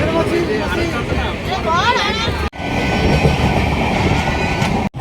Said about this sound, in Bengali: খড়গপুর রেল স্টেশনে পৌঁছে গেছি আমরা